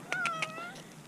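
A stray kitten gives a short, high, wavering meow outdoors, a single thin cry lasting under a second against quiet background hiss.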